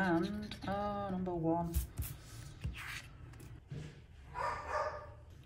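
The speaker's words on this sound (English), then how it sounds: "Every time I turn this camera on, the dogs start." Dogs bark in a household, with a few sharp barks and yips rising over a steady stretch of talking and background noise.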